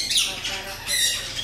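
Parakeet-like bird squawking in an aviary, loud harsh calls repeating close by across the whole moment, with no talking over them.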